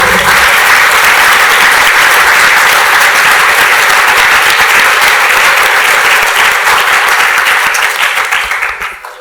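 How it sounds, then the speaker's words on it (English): An audience at a hackathon closing ceremony breaks into loud, sustained applause, with dense clapping holding steady for several seconds before tapering off at the end. "if you give them a round of applause as well, that'd be great"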